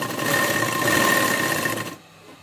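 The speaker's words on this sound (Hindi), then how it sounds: "पूरा साइज बराबर लेते हुए हम इसे राउंड सिलाई कर लेंगे" A sewing machine runs a continuous stitch along a burqa strip, a loud steady motor whir for about two seconds before stopping abruptly.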